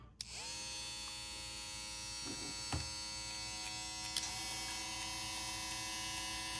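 Steady, high-pitched buzzing motor hum of a JRL FF 2020T electric hair trimmer running continuously, with a couple of faint clicks and handling taps.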